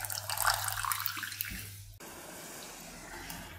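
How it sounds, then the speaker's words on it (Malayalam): Water heats in a cooking pot toward a boil while ginger curry is made for an Onam sadhya. A steady rushing, bubbling wash is heard, then drops partway into a quieter, even simmering hiss. "വെള്ളം തിളച്ച് വരുന്നുണ്ട്."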